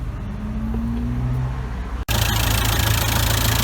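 A Volkswagen Caddy engine idles steadily close by after a new oil cooler and gasket are fitted, a continuous low rumble broken by a brief dropout midway, then resuming louder and rougher.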